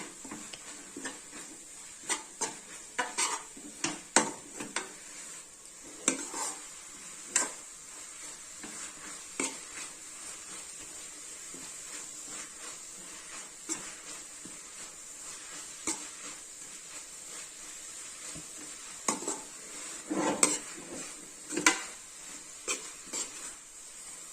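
Coconut chira is stirred continuously in a kadai, with repeated scraping and rustling strokes over a faint, hissing sizzle and an irregular rhythm of louder scrapes.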